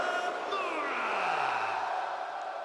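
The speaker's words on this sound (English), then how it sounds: "As the crowd sing along the Shinsuke Nakamura's entrance theme" A large arena crowd in the WWE 2K24 wrestling game roars and sings along to a wrestler's entrance theme. The dense, steady crowd noise runs under a falling tonal sweep from the entrance music.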